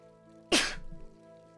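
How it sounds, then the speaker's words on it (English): A single sharp sneeze bursts out, brief and close, then fades into quiet with faint background hum. "Sorry, I had to go ahead and sneeze there"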